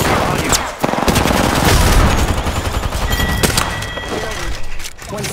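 Rapid close-range gunfire from the Apex Legends video game, dense bursts of automatic shots and thuds filling the whole stretch at high volume, with a voice talking faintly underneath.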